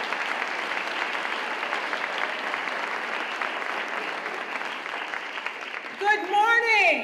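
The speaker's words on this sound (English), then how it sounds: "So can you guys give her a round of applause?" Audience applause at a leadership gathering, steady broadband clapping filling about six seconds before cutting off as a voice begins speaking.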